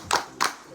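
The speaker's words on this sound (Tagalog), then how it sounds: "bigyan natin si Kers ng tatlong palakpak." Clapping from a group at a festival finals event, heard as two quick bursts of applause close together, loud and sharp with a brief lull in between.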